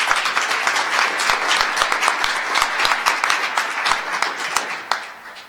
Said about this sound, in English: Warm round of applause, please, for Donna Skelly